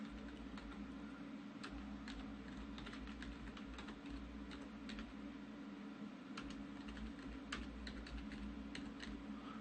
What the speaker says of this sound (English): If I just want to put text in, I can click and start typing.